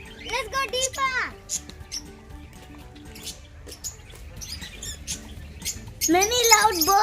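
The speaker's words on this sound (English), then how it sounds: "Many loud birds are here." Loud birds squawk and chirp in bursts at a farm with ducks, peacocks and flamingos, the shrill calls clustering at the start and end, while a child and an adult talk in between.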